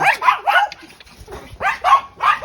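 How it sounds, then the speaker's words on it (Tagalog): Several dogs bark in short, loud bursts close by, with a pause midway before more barking resumes, some yips mixed in among the barks. "Ayan, dami nilang aso."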